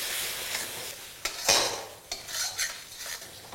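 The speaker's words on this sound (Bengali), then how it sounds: "এবারই সব কিছুকে আমি ভালো করে আবার মিশিয়ে নেব।" A spatula stirs a spice mix with ginger paste and green chili in a pan for katla fish kalia, giving a few scraping strokes and soft sizzling pulses, close and alone without speech.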